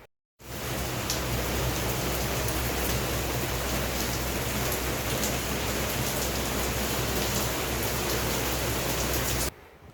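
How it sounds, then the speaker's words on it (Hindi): Steady, dense rain falls in Lahore, a continuous broadband hiss of drops on surfaces that holds at an even, fairly loud level throughout, with no voices. "यहाँ बारिश हो रही है, ठीक है।"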